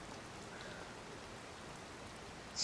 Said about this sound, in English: Still raining in my game.